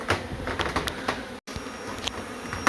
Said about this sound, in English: There's just so many robber bees here.